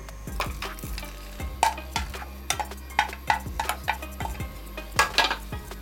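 Cassava fufu being stirred in a pot over heat, with repeated sharp clinks and scrapes of a utensil against the pot in an irregular rhythm over a steady low hum, close and fairly loud.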